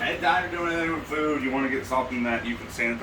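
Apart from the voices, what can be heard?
No everyday noise stands out behind the speech.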